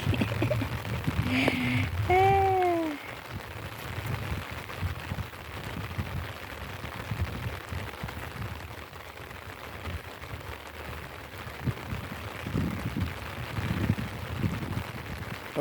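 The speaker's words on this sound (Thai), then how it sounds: "ฝนตกแล้ว" Rain falls steadily on a traditional rice field, a dense, even hiss that lasts throughout, with a few bird chirps near the start.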